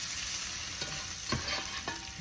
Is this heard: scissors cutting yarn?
no